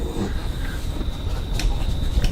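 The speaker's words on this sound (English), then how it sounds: "And now I'm just going to go to the sewing machine and stitch." A home sewing machine stitches a seam while piping for a bag is made, giving a steady close mechanical whir and rumble with a faint high motor whine throughout.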